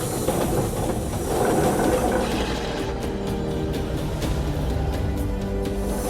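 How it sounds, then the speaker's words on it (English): A steam donkey winch lifts and drags logs, giving a continuous loud hissing, rumbling mechanical roar with steady churning noise throughout. "So right now, the logs are being lifted and dragged at the same time by the steam donkey."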